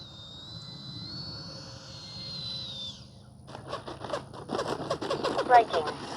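A Freewing 80mm F-22 Raptor RC jet whines past with a steady, fairly loud edf tone that shifts in pitch, then gives way to louder, choppier noise and nearby chatter as the flight continues.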